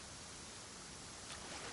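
Steady waterfall rush in Assassin's Creed Shadows, a continuous broadband roar of falling water heard alone at moderate level with no voices.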